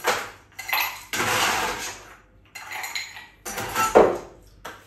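An old fashioned rocks glass being picked up for an arrack cocktail, a close series of clinks, knocks and clatters of glass against hard surfaces, arriving in separate bursts with short pauses between them.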